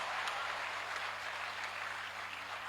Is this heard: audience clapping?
yes